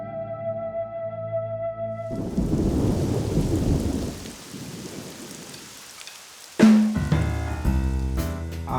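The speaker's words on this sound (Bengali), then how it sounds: "যা বৃষ্টি" Heavy rain pours down steadily during a thunderstorm, with deep rumbling thunder rolling in and a sharp, loud crack near the end; no voices are heard.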